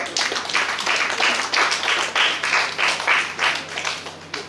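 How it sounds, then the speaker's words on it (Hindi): An audience at a talk claps for Rahul, a dense, steady round of applause with periodic swells, close and continuous throughout. "राहुल के लिए तालियां मारिए जी"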